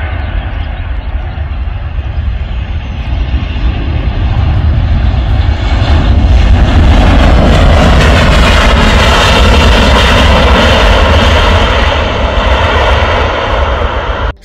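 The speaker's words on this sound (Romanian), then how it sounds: "Și cred că va atinge pista mai departe decât astea mici. Este un 737." A Boeing 737 approaching to land near Bucharest, a loud, close jet engine roar that swells and stays heavy throughout, with no talk over it.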